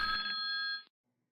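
A thinkorswim tech support chat notification rings once as a bright, electronic bell-like chime lasting under a second, then cuts off into silence.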